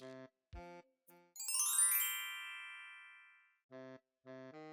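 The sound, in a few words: doorbell ringing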